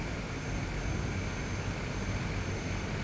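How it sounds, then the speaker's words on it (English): An aircraft engine roars steadily and loudly as reverse thrust is engaged on the propeller during a flight to St Barts, a broadband rumble with no pauses or talk. "what I'm going to do is I'm actually going to use the reverse thrust"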